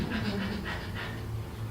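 A person imitating a dog's panting, with rapid, rhythmic, breathy huffs in close succession, loud and near.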